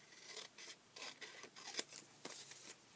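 Scissors snipping strips of paper or card down to half an inch for a small flip-top box, a string of quick crisp cuts and rustles, close and fairly quiet with no talking.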